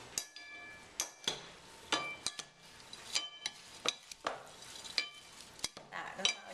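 Spoon stirring raw gluten-free tabouli in a bowl, close and fairly quiet, with irregular clinks and wet scraping strokes.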